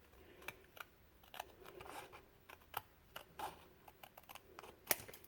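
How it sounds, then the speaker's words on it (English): Quiet, close snips and crisp cuts repeat irregularly as paper is trimmed with scissors, with faint rustling between the cuts. "you can either use blade or scissors or whatever and cut this down"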